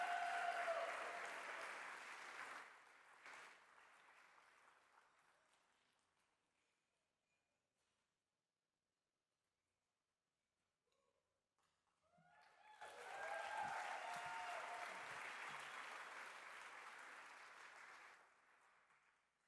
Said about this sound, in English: Everyone, please give applause for Lux.